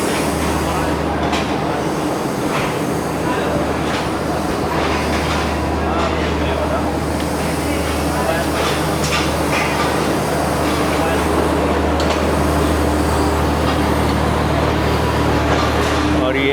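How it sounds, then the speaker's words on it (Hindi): Refurbished Pak Business Express with AC standard coaches in green livery rolling past on its inaugural run, a steady loud rumble of wheels and rail noise throughout, with a voice talking over it. "पीछे मेरे आप ट्रेन गुज़रते हुए देख सकते हैं।"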